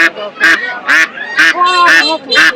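Loud, close quacking from two domestic desi ducks at a village market: about six harsh, nasal calls in quick succession.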